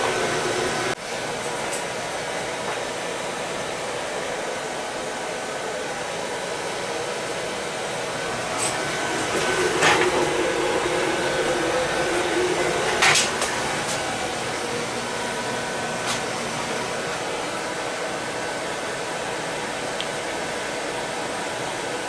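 A Viessmann oil-fired boiler burner running after its annual service: a steady, even roaring hum that holds throughout, with a few faint clicks and brief swells in the middle, and no voices.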